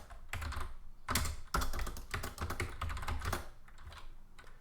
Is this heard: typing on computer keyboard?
yes